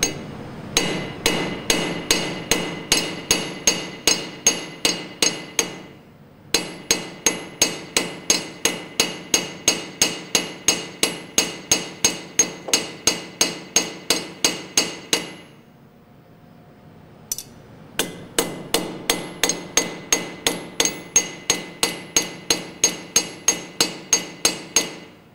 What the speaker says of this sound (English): Make sure you're hammering it nice and flat.